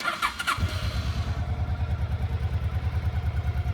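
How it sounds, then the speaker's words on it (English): A 1990 Honda PC800 motorcycle engine cranks briefly with a starter whir, then catches and settles into a steady, rhythmic idle close by. "we just turn the key on, push the starter button,"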